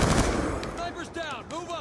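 An M27 automatic rifle in a video game lets off a loud, rapid burst of fire at the start, then a voice talks over the rest.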